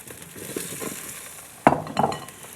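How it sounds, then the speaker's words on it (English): A sudden sizzle bursts up as potatoes hit a very hot baking sheet, with a light clink of metal, then a steady crackling hiss continues close by. "Hear the sizzle?"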